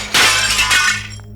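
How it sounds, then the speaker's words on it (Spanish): A mirror shattering as a sound effect: one loud, bright crash of breaking glass, then falling shards that trail off within about a second. "el sonido del espejo quebrándose resonó con fuerza"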